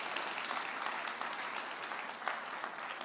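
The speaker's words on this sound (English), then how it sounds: "Give her a big round of applause for being here with us." An audience at a signing ceremony for Jamaica's National AI Lab applauds warmly, dense steady clapping filling the room at a moderate level.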